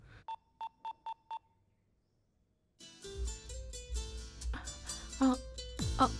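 Five short electronic beeps, then a pause, then a phone ringtone melody plays loudly.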